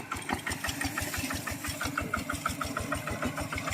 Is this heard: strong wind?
no